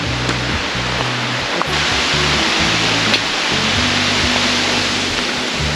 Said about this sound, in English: this waterfall is actually very beautiful